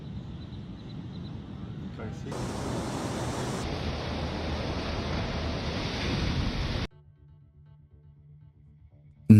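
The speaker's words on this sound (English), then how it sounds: "Look at the way he surfs on the waves." Surf breaking as a rider surfs the waves: a steady, loud rushing roar of water and wind for about seven seconds, then it cuts abruptly to near silence.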